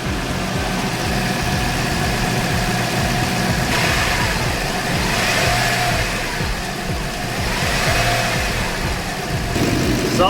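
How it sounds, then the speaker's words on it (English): A Toyota Land Cruiser 100 engine runs steadily and loudly nearby during heater tee replacement, with the pitch rising and falling slightly as it is revved to purge air from the coolant system. "you can also rev the engine up a little bit more too"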